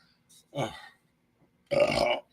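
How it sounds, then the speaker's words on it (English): A man lets out two burps, a short one followed by a longer, louder, throaty one, close and alone in a quiet room. "Please rate my burp now."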